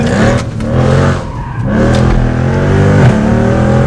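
A Mercedes C63 engine revs loudly and steadily, its harmonic drone rising and falling through several throttle blips, close by, with no talk over it.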